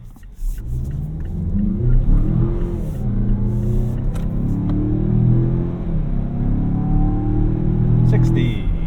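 A 2024 Mazda CX-5 Turbo in sport mode pulls hard uphill, its engine a steady rising drone with shifting tones heard from inside the cabin, road rumble underneath and a few faint clicks.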